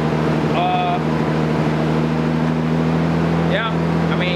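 A Nissan 300ZX twin turbo engine idles steadily nearby after a breather modification, a loud, constant low drone with a smooth hum that never changes, while faint whistling tones rise over it at moments.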